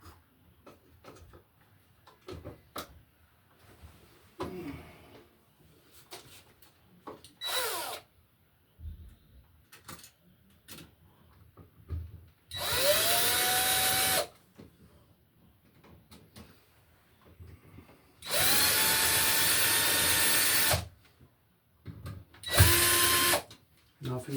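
Cordless power drill driving screws into a replacement GFCI receptacle box after water damage, heard as three loud whirring bursts with rising pitch, separated by quieter handling, clicks and rustling.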